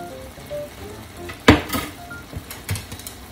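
Bamboo-shoot menma sizzling in a pan with a little sesame oil, stirred by hand: a soft frying hiss under a sharp clatter of utensil against pan and a few lighter scrapes, close and brief.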